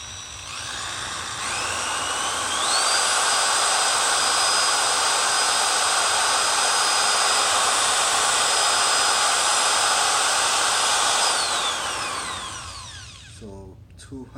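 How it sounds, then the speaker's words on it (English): A power drill powered through an inverter spins up, runs freely at a steady high-pitched whine for several seconds, then winds down, loud and close. "So the next test is going to be this drill."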